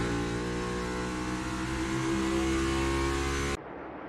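NASCAR Cup Series race cars roar around the Phoenix oval in a loud, sustained engine drone with layered revving tones, cutting off abruptly near the end to a quieter background.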